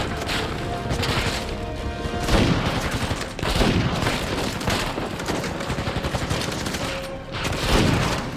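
Rapid gunfire in Uncharted 4 on PS5, dense bursts of close shots crackling in clusters over several seconds with no talk.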